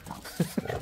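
A dog gives two short, low grunting vocalizations in quick succession, soft and close, inside a self-built campervan, with quiet room noise around them.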